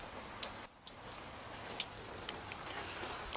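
Warm rain falls steadily outdoors, a soft continuous patter with scattered louder drops hitting close by, no voices.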